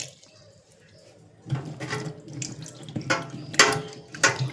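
Dishes being washed under a running kitchen tap, with splashing water bursts and clinks that come and go after a quieter start, moderately close.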